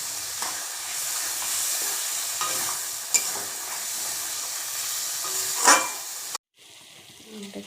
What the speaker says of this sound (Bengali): মশলাটা না ভালো করে কষালে একটা কাঁচা কাঁচা গন্ধ আছে, তাই ভালো করে একটু কষিয়ে নিব।